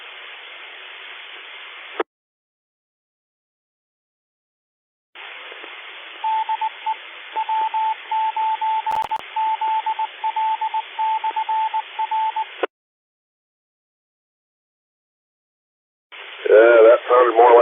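W9ZL amateur radio repeater transmitting on a ham radio net: hissy, band-limited bursts broken by dead silence, one carrying a rapid series of beeping tones, with a brief voice coming through at the end.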